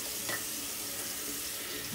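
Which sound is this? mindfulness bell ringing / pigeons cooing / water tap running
water tap running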